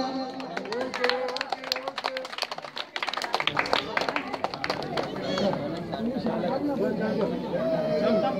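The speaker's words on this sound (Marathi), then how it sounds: "टाळ्यांचा गजर होऊ द्या" A crowd at a village felicitation ceremony applauds during a tricycle donation to a disabled person. Quick, dense claps ring out near the start, then give way to loud chatter and voices talking.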